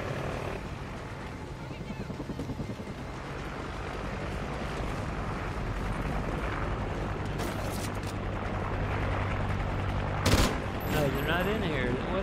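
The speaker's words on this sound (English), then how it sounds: "Someone shoot at me, I just heard someone shoot at me." Gunfire in a multiplayer shooter video game crackles in bursts against a dense, noisy background of game sounds, with a player talking over it.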